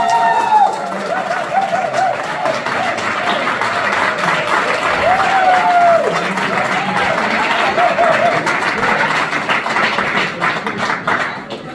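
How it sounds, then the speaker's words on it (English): A crowd applauds steadily and loudly for candidates at a Liberian Association of Arizona presidential debate. Scattered cheers and a voice come through the clapping. "As I call their name, please clap for them"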